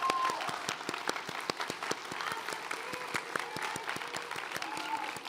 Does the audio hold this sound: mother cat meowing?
no